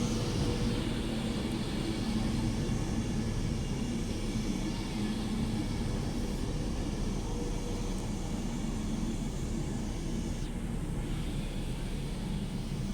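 A Class 390 Pendolino electric train, unit 390010, passes through Stockport station on the West Coast Main Line, giving a steady, loud broadband rumble and whoosh that lasts throughout with little change in level.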